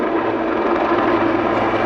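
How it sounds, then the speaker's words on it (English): A Wildcat military helicopter hovers at about 300 feet during an airshow display at Yeovilton, giving a loud, steady, continuous engine and rotor drone with no breaks. "Okay, aircraft now in the hover"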